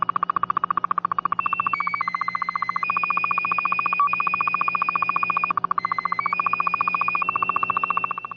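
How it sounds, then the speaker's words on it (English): Warbling slow scan television radio tones with steady beeping pulses and stepped pitch shifts, continuous and fairly loud, heard over a shortwave receiver. "Slow scan television is a signal used to transmit a computer image."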